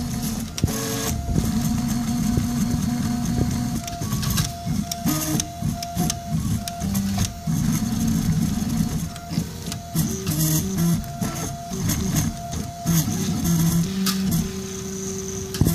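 A RepRap Prusa i2 3D printer whirs steadily with stepping motor tones that shift pitch as it moves, plus occasional faint scraping, continuous and close.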